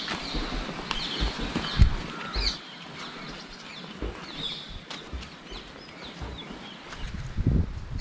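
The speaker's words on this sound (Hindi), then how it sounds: "बस पानी का आवाज़ है और चिड़ियों का आवाज़ है।" Evening at a Kaveri riverbank near Muthathi: soft continuous water sound with scattered high bird calls, a few louder bumps and rustles nearby, no talking.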